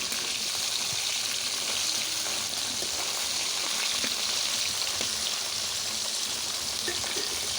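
Taki and khalisha fish frying in a pan for a gourd curry, a dense, continuous loud sizzle with faint crackles throughout, no talking.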